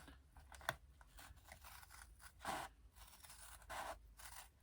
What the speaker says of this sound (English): I actually do use my scissors to cut that center line